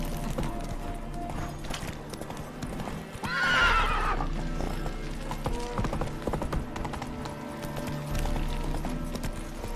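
Roach, the horse in The Witcher 3, gallops with steady rhythmic hoofbeats under game music and ambience, with a loud whinny near the middle.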